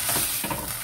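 Quelites, quintoniles, being stirred in a pan, a brief scrape and stir over a steady sizzle of frying, close and fairly loud.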